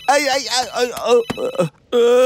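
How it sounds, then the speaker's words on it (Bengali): A cartoon telephone rings in a Bangla animated show. A short, steady electronic ring tone comes in at the end, right after animated character voices speaking. "বস আমার ফোন করতেছে।"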